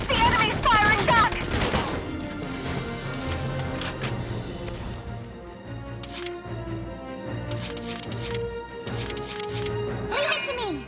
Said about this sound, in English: Uh-oh! The enemy's firing back!